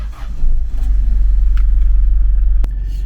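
A Hyundai Galloper SUV setting off, its engine giving a loud, steady, close low rumble that swells early on and holds, with one sharp click near the end and no talking.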